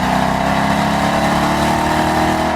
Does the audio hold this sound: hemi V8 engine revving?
yes